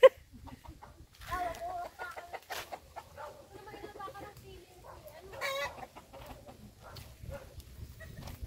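A chicken clucks and a rooster crows in bursts over several seconds, fairly close and clear against a quiet background with low rumbling.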